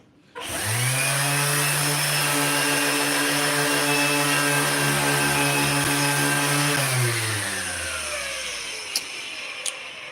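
An electric sander with a worn pad starts abruptly and runs loud and steady with a high, tonal motor whine, then winds down gradually toward the end, followed by a couple of sharp clicks.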